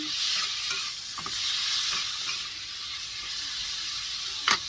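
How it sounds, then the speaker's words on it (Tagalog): Chicken sautés in a hot pan, a continuous close sizzle and hiss with soft scraping as it is stirred, a sharper clack near the end. "Igisa lang natin itong ating chicken."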